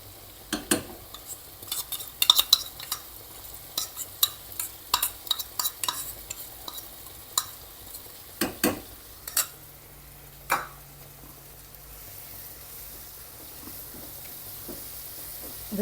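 Masala being stirred into softened onions in a pan, with sharp, irregular spoon scrapes and clinks against the metal over a faint sizzle, thinning out and ending in quieter frying.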